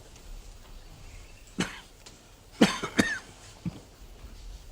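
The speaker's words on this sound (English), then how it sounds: "I see you've still got that cough." A few sharp coughs in a quiet room, a single one followed by a quick cluster of harsh coughs and one last small cough.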